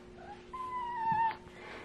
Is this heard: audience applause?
no